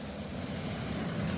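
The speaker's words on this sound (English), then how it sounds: "There's the river again." A river flows past a village church and an old mill, giving a steady, close rush of water mixed with wind buffeting the microphone for the whole moment, with no voices.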